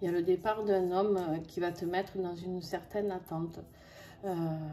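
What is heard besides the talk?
None of the usual background noises is heard.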